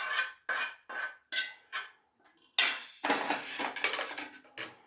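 A spoon stirring tempered seasoning into tambuli, a yogurt-based dish, in a metal bowl, making a series of close, rhythmic clattering scrapes that run together into a denser flurry of clinks near the end.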